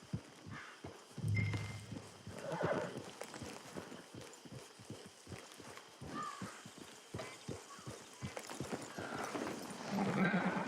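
A horse in the Red Dead Redemption 2 video game, hooves clopping in a steady rhythmic gait close by, with a few snorts or whinny-like calls, while voices talk over it at times.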